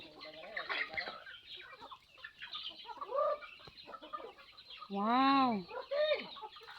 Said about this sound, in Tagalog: Amo na kadamuon sa manok sa ako nga tiyo diri ong